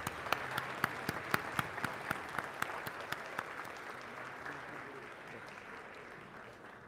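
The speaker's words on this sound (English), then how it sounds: "please let's give them a round of applause" Faint applause from a crowd at a university convocation, with a few distinct sharp claps standing out early before settling into a soft, steady patter that slowly fades.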